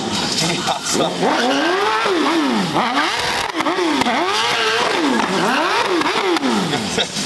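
A BMW S1000RR sportbike revs and slides during an outdoor stunt show, its engine pitch swooping up and down in repeated wavering sweeps, loud and close, while a commentator talks over it.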